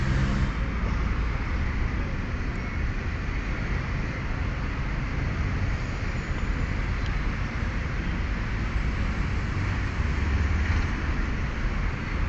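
A 2001 Toyota Corolla Altis engine runs after a blown fuse is replaced, giving a steady, unbroken idle rumble with a broad mechanical hiss and no talking.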